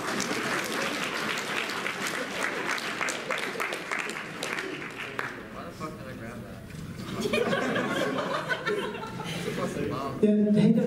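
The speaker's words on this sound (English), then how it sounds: "Let's give another round of applause." Crowd applause mixed with chuckles and laughter at a Tulsa University event, with people talking over the clapping throughout and a louder burst of clapping near the end.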